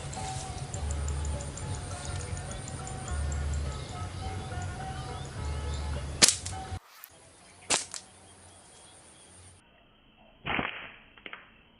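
Sharp gunshots fired at a bird during a forest hunt, a few sudden cracks spaced apart over a steady outdoor background, moderately near.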